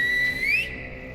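A single rising whistle summons a group of Aswang creatures in an audio drama scene, a clear, close tone lasting under a second before cutting off.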